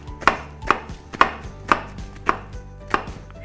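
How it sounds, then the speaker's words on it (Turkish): A knife chops onions on a cutting board while preparing a Ramadan dish, six crisp, evenly spaced knocks at close range with no talk. "Şu şekilde doğramanız uygundur."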